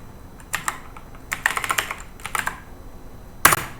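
Computer keyboard keys tapped while writing hello world C code, clusters of quick crisp clicks in short bursts with pauses, close and fairly quiet.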